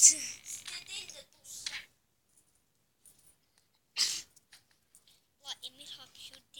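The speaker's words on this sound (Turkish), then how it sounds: "hapşırdı" A sneeze bursts out sharply and loudly at the start, amid a few brief voiced sounds and exclamations, followed by quiet gaps and scattered short vocal noises from an animated film.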